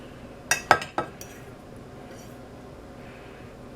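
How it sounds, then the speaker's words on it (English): A utensil clinks against a dish while buffalo chicken dip with cream cheese is mixed, a few sharp metallic taps in quick succession, then quiet background. "We're mixing here."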